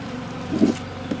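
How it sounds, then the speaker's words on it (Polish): Honeybees hum around an opened, broken-up beehive, a steady buzzing drone with one bee passing briefly louder up close. "Rozwaliłem ten ul, bo się pszczoły bardzo kręcą"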